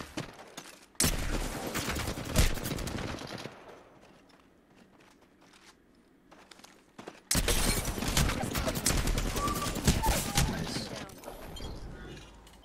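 Gunfire in a 1v1 video game fight: dense bursts of rapid shots and footsteps, a quieter pause, then another loud barrage, with a voice talking over parts of it.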